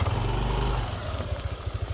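A motorcycle rolls slowly over a rocky ramp near a viewpoint in San Jose, Tarlac, its engine putting out a steady low rumble that turns into an uneven, pulsing chug in the second half, with no voices.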